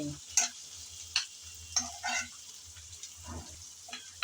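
Prawns fry together with chopped cauliflower stalks in hot oil, a steady low sizzle broken by a few sharp spatula scrapes and stirs against the pan, close and fairly quiet, with no voices.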